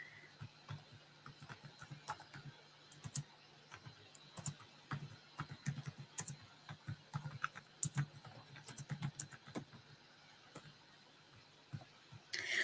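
Soft, rapid riffling and patting of tarot cards being shuffled, irregular bursts of light clicks and flutters close by in a quiet room, with no talking.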